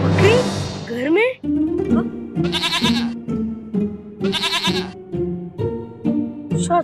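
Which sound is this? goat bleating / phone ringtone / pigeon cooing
goat bleating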